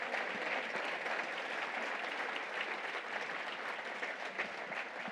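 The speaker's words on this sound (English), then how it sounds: "let's give them a round of applause for all of the work that they've done." A lunch keynote audience claps in steady, even applause that holds at a constant level throughout, with no talk over it.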